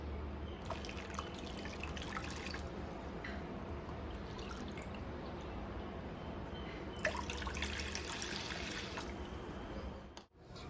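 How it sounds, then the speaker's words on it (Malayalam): Water poured into ground coconut paste while making a Kerala-style dish, a steady close trickle and splash with brief louder bursts, fading near the end. "ഇതിലേക്ക് ഇനി നമുക്ക് ഒരു 2 കപ്പ് വെള്ളം കൂടെ ചേർത്ത് കൊടുക്കാം"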